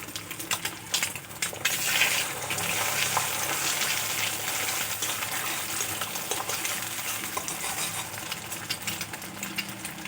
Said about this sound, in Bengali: ডিমটা নেড়ে চেড়ে আমি